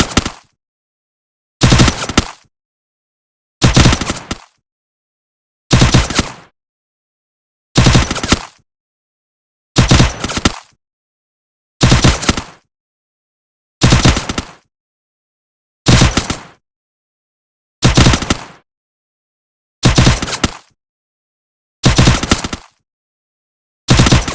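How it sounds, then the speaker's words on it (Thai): Bursts of automatic gunfire from a mobile shooting game, about a dozen sharp, loud volleys each lasting under a second, separated by short silences in an even rhythm, with no voices. "มองไปรอบๆแล้วยิงทันทีที่เป้าเล็งอยู่บนศัตร ูกดปุ่มยิงเพื่อยิง"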